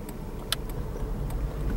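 A car rolls along a road, heard from inside the cabin, with a soft steady low rumble and a few faint rattles and clicks, and no talking.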